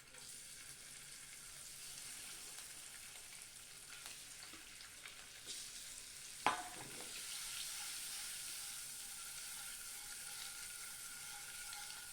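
Steady sizzling of eggs frying in hot oil, with a brief clatter of stirring partway through; no voices.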